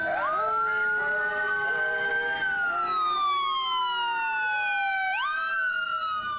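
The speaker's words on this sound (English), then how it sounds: "Here comes the fire engine." A fire engine's siren wails loud and close, its rising and falling tones sweeping steadily through a continuous wail with a slight shift in pitch as it passes, heard at a neighborhood birthday gathering.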